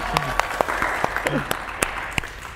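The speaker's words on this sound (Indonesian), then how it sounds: "Boleh tepuk tangannya teman-teman." Scattered audience clapping on a talk show stage, sparse sharp claps over a low hum with musical tones drifting behind.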